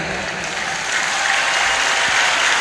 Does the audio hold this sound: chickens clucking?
no